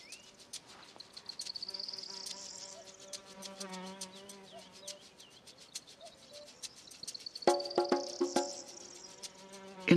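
Flies buzzing in a dry African savanna, thin whining drones rising and fading as insects pass close by, with faint bird calls and a louder burst of buzzing near the end.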